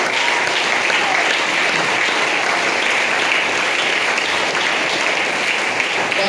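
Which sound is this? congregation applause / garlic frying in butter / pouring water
congregation applause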